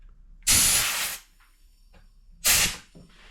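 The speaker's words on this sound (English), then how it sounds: "take an air compressor, get these holes right here" Two sharp bursts of compressed air from an air compressor blow out the oiling holes of a chainsaw. Each loud hiss lasts under a second, with a short quiet gap between them.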